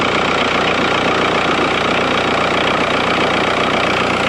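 A 2006 VW Beetle 1.9L diesel engine runs steadily after a power steering pump replacement, a smooth, even idle hum with a faint ticking knock, close and constant throughout with no talking.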